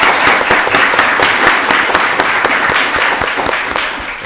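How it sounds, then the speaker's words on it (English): Steady applause from a county board of commissioners meeting audience, a dense, even wash of many hands clapping that holds for several seconds and eases slightly toward the end. "Y'all give her another round of applause."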